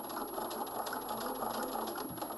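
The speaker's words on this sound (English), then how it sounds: "you're going to be sewing through 4 layers of felt as you go through the welt" A sewing machine stitches steadily through four layers of felt along a coat welt, a close, continuous whirring hum with no pauses.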